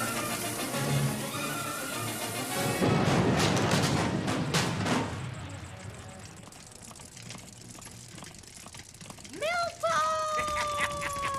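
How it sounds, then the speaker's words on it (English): A cartoon dynamite blast blows up a canyon bridge, heard as a loud, rumbling burst in the middle of the clip over background music, followed by fainter whistling, falling tones. "Joe, there's a bridge in front of us. Pass me the dynamite."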